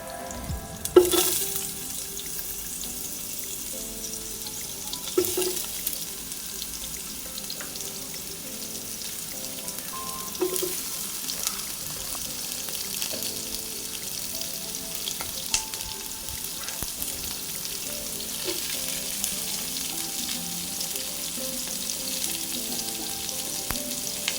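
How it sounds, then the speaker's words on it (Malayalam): Three large chopped onions sizzle and fry in a pan for a Chennai-style South Indian biriyani, a steady crackle with occasional sharper scrapes and clinks of the spatula, no voices. "3 വലിയ സവോള അരിഞ്ഞത് കൂടി ചേർത്ത് അതും കൂടി നന്നായിട്ട് വഴറ്റിയെടുക്കുക"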